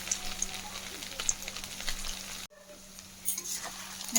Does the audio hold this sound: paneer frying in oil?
yes